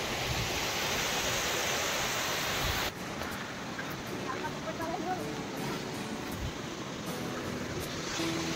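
A waterfall at Karla roars as a steady broadband wash, loud and continuous, with a few faint voices and small sounds beneath it.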